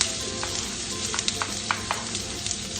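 Garlic sizzles steadily in a hot pan for pork curry, a dense continuous frying hiss with small pops and crackles scattered throughout, close and fairly loud with no talking.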